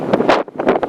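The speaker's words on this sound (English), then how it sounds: "The wind is blowing me over on the stage" Gusts of wind on an outdoor stage buffet the microphone in two rough, rumbling bursts with a short lull between them.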